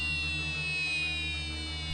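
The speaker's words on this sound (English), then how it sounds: "This is stop work alarm." A continuous electronic stop-work alarm siren at a workplace drones steadily with a shrill, harmonic-rich tone over a low hum, loud and unbroken throughout.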